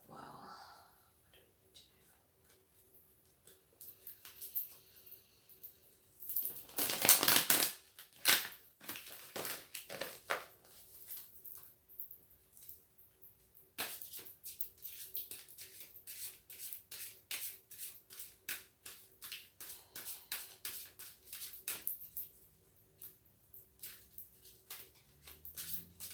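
Crisp riffling and flapping bursts of cards being shuffled close by, in quick repeated rounds with soft rustling between.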